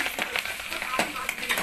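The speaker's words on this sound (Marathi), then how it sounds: "चला कूट असं छान प्रकारे असं फ्राय होऊ द्या" Crushed peanut powder fries in oil in a wok with a close, busy sizzle, broken by a few sharp stirring scrapes over less than two seconds.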